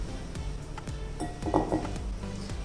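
Jaggery and ghee whisked together in a bowl, with a steady series of light metallic scrapes and clinks from the whisk against the bowl, close and fairly quiet.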